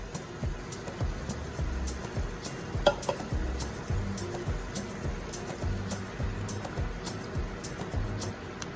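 Tomato sauce sizzling in a hot pan for a creamy lasagna, a soft crackling fry with irregular stirring scrapes and bumps, fairly faint and without talk.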